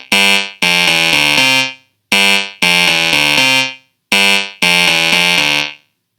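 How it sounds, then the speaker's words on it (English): Chrome Music Lab Song Maker synth playing a repeating melody in bright, buzzy, harmonically rich tones. The phrase is loud and close and comes three times with brief pauses between, with no speech over it. "We can hear something called a synth play it."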